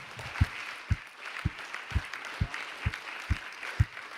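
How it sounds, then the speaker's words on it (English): Applause from a World Policy Conference audience in Abu Dhabi, with loud, sharp claps landing roughly every half second over a soft background of scattered clapping. No voices are heard. "Donc, je les applaudis."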